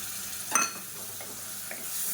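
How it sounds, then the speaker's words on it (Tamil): Chicken masala with yogurt is stirred in a pan over medium flame, a soft sizzle with one brief scrape of the spoon early on and faint stirring after, no talk. "மீடியமான ஃப்ளேமில் வதக்கிக்கலாம்."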